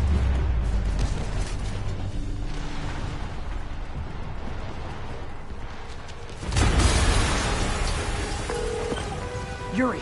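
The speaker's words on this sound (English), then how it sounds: "an explosion just..." An explosion in the video game Spider-Man Remastered erupts as a sudden loud broadband burst partway through, amid continuous rumbling game noise and debris-like crackle.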